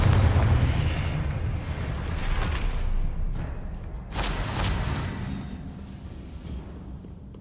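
The Confringo blasting spell from the Hogwarts Legacy video game goes off as a loud, deep explosion with a rumbling tail. A second, sharper burst follows with a whoosh, and no speech is heard.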